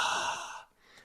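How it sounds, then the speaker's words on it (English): Close, breathy open-mouth exhale like fogging a glass window, one soft airy whoosh lasting about half a second, then fading into quiet. "make this sound like you're going to fog up a glass window"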